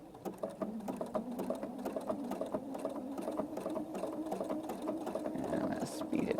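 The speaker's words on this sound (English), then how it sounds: "and then I'm just going to stitch around here again." A sewing machine stitches around a circle guided by a ruler, its fast rhythmic chatter running close and steady throughout, with a voice talking over it.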